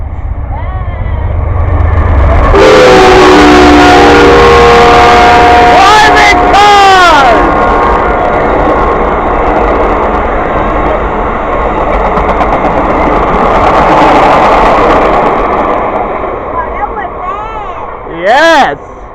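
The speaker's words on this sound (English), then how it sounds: "after that freight, here comes Amtrak" An Amtrak passenger train pulled by two engines rolls past close by with a heavy rumble, sounding long horn blasts that bend in pitch, and onlookers talk and cheer over the noise.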